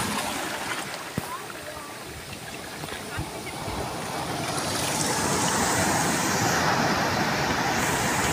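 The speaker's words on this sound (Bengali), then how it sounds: "ঢেউটি যখন এরকমভাবে আসছে এবং পাথরের গায়ে ধাক্কা দিচ্ছে" At Digha beach, sea waves wash in against rocks with a broad rushing roar that starts moderate and swells louder and fuller over the last few seconds, with a couple of faint knocks early on.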